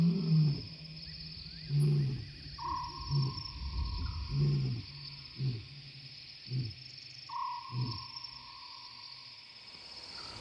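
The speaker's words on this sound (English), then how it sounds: "we're serenaded by Juno's glorious roars and follow the sound" A lion roars at night in a series of deep, rhythmic grunting calls that fade in strength, heard over a steady chorus of crickets and insects.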